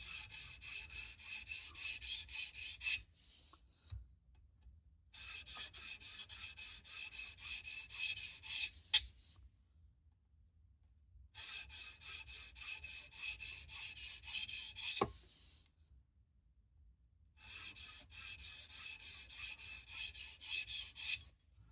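A knife is sharpened on a 220-grit stone in a Tsprof Pioneer guided sharpening system under light pressure. Sustained rasping strokes come in several long bursts separated by brief pauses, close and even in level.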